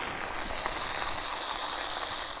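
Grilling sausages made to a 1938 GOST recipe fry in a pan with a steady, even sizzle, heard close and alone with no talking.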